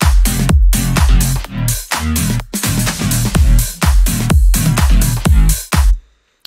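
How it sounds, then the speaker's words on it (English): A music production mix of bass and drums plays alone, loud and full: punchy kick and snare hits in a steady driving rhythm over a deep, sustained bassline, ending abruptly. "altogether, the bass with the drums sound like this"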